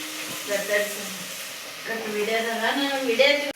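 Garlic paste sizzles in hot oil in a home kitchen as pulao is being made, a steady frying hiss running beneath people talking nearby.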